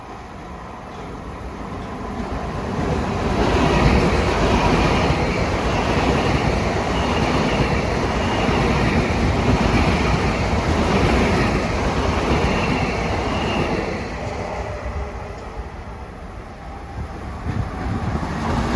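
A Long Island Rail Road commuter train rumbles through New Hyde Park station during the morning rush, a loud continuous roar and rattle of rail cars that swells early, holds steady and eases slightly toward the end, with no talking.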